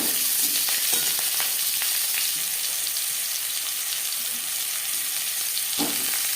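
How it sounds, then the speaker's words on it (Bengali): New potatoes, cut into pieces and washed, frying in refined oil in a pan, with a steady close sizzle and crackle throughout and occasional stirring clatter, no talk. "সবার প্রথমে আমি আলু ভেজে নেব"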